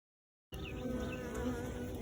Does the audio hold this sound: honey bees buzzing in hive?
yes